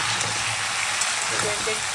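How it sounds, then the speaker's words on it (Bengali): Potatoes and eggplant frying in a pan while being stirred, a close, continuous hiss and sizzle with faint scraping through the short stretch. "নাড়িয়ে নিচ্ছি আলু বেগুনটা একটু হয়ে যাক"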